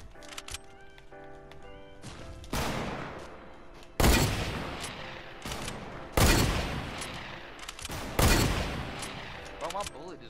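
Fortnite gunfire: a handful of loud, separate shots, each with a sharp crack and a long ringing tail, landing about every two seconds over a steady game background.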